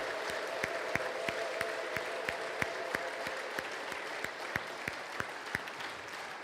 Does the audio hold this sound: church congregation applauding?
yes